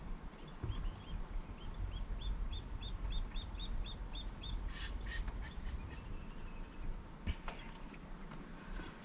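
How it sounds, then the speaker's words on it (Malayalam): A young bird chick, about two months old, calls in the desert with a series of faint, high, evenly spaced chirps over a steady wash of outdoor background noise. "രണ്ട് മാസമൊക്കെ പ്രായമുള്ള കിളിക്കുഞ്ഞായിരിക്കും ഇത്"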